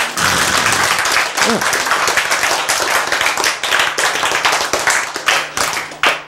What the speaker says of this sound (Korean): 박수 한번 쳐야지